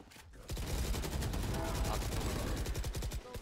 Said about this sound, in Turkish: Duvara sıkıyorum adamı sıkacağım.